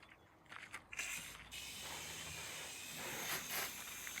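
SwiftJet car foam sprayer fitted with its rinsing nozzle, shooting a steady, fairly loud hissing spray of water that starts after a few brief bursts and runs continuously, with no talking.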